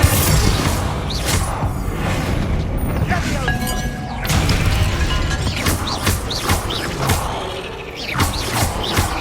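A Confringo spell cast in Hogwarts Legacy, heard as explosive booms and crackling impacts in a busy stretch of loud game action, with several sharp bursts spread across the clip.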